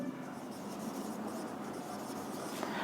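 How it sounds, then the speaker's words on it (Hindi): Marker or chalk writing on a classroom board during a maths lesson, a steady continuous scratching and rubbing close by with no talk over it. "चलिए तो देखिए अब हम लोग लिखेंगे"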